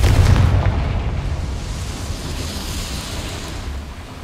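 A Confringo spell in the Hogwarts Legacy video game goes off near a mine boiler with a deep, booming blast that hits at once, then fades slowly into a low rumbling tail.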